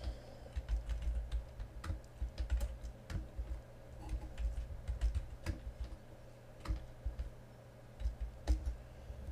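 Typing on a computer keyboard while writing C code, steady clicking keystrokes in irregular quick bursts, close and moderately loud, with a low hum beneath and no speech.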